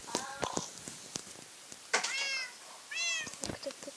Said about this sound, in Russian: О, наш кот там сидит.